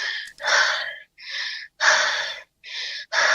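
A voice imitates heavy, tired breathing: several loud, breathy huffs and gasps in an uneven rhythm, with short pauses between them.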